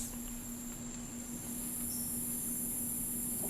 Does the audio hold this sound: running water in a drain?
no